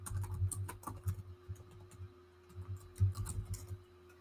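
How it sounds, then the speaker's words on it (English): Typing on a computer keyboard, a busy run of quick key clicks with short pauses, fairly close over a steady low background hum, with no talking. "Let me see if I can type this in here."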